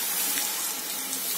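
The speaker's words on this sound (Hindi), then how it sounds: "एबे आमे कौन करवा एथिरे गुटे हाफ ग्लास हिसाब रे आपण यादरे पानी देवे" Half a glass of water poured into a simmering potato curry made without onion or garlic, a close steady gushing splash running unbroken for about a second and a half, with no voices.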